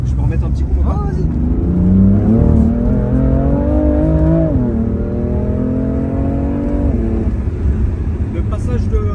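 A BMW car accelerates hard from inside the cabin, its engine pitch climbing steadily, then dropping sharply at a quick gear change around the middle before rising again, loud and continuous with a voice briefly heard beneath.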